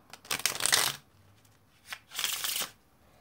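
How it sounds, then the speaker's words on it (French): A spectator shuffles a deck of playing cards during a magic trick, heard in two close, crisp riffling bursts separated by a short pause. "Une fois qu'il a bien mélangé les cartes"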